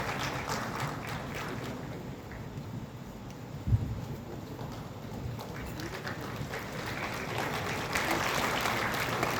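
An audience at a World Youth Skill Day award ceremony keeps up a steady, moderately loud round of clapping, with crowd noise and a brief bump near the middle, sustained throughout.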